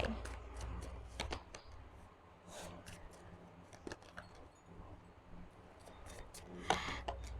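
Tarot cards shuffled by hand for a reading, making soft, quiet riffling and tapping bursts at uneven intervals against a faint low background.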